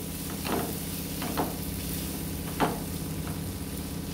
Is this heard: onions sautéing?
yes